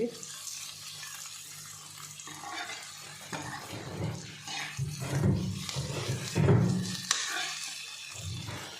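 Potatoes frying in oil in a pan while curry is made, a soft sizzle with intermittent stirring and scraping bursts that grow louder midway, close and alone without talk.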